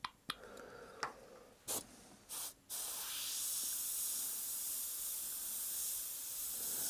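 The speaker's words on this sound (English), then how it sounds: "spraying nice" An Evolution X airbrush with a 0.6 nozzle sprays paint in a few short hissing bursts, then settles into one long, continuous close-up spray.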